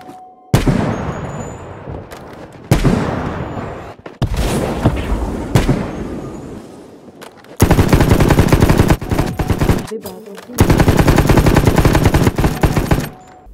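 Rapid automatic gunfire from an online shooter video game, dense bursts of shots separated by short gaps, loud and close with no talk over it.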